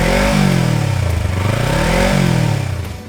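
A Kawasaki Versys 250 twin-cylinder motorcycle engine revs loudly up and down in rising and falling swells, close by and with no voices.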